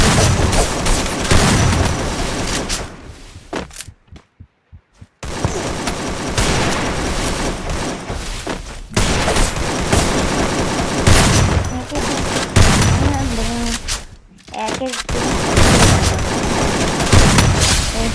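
Gunfire from the battle royale game Free Fire: dense, loud bursts of rapid shots and booms run nearly continuously, broken by two short silent gaps.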